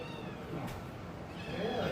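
A close, agitated cat lets out a strained, drawn-out meow over low background noise, with a faint voice barely present.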